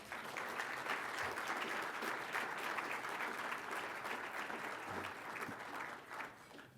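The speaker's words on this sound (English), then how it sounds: "Please, a round of applause for." Steady round of applause from guests at a Foreign Policy Association financial services dinner, moderately distant and sustained for several seconds before tapering off at the end.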